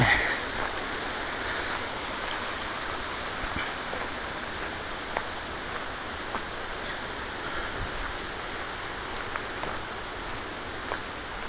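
A small waterfall feeding a river stream beside a hiking path in Canada produces a steady, broadband rush of flowing water that continues throughout without pause, with no one talking over it.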